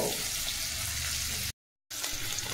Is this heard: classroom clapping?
no